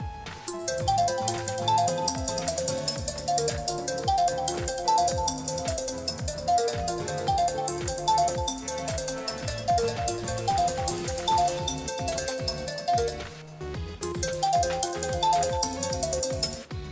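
An iPhone ringtone for an incoming call plays as a repeating melodic tune, loud and steady, with a brief pause before the pattern starts again; no talking.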